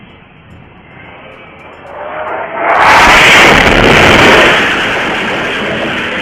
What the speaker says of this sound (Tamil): பயங்கர சத்தத்துடன் வெடித்து சிதறிய மிசைல்.